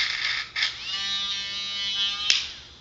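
A small electric motor on a digital speed regulator spins fast with no load, producing a close, steady high-pitched whine after a brief start, with a short click near the end.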